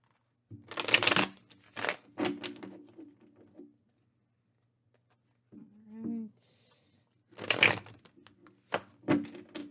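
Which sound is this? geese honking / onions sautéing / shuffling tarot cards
shuffling tarot cards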